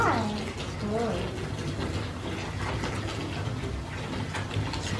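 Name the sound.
Coca-Cola and Mentos fizzing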